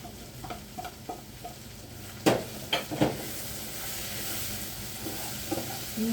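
Onion, tomato and masala frying in a pan with a few sharp stirring scrapes and clatters over a steady sizzle, close and moderately loud.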